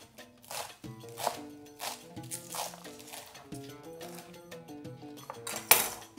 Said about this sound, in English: Take the cilantro and you mince it very fine.